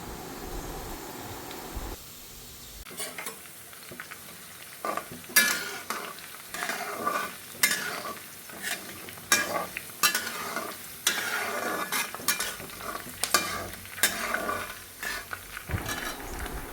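Garlic pickle stirred with chopped ginger, green chilli and curry leaves in a pan, with repeated spoon scrapes and clinks against the metal over a soft, steady sizzle of frying oil.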